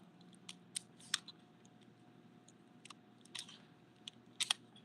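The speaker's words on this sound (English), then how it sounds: "Folding up my tripod." A camera tripod being folded up inside an old armory performing arts center, giving faint scattered clicks and snaps of its legs and latches over a quiet room hum.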